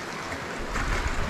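Ocean waves wash in at low tide along a rocky shore in the British Virgin Islands, a continuous broadband rush that swells louder toward the end, heard close with no talking.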